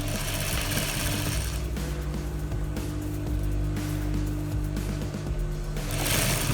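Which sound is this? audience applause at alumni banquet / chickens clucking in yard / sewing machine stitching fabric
sewing machine stitching fabric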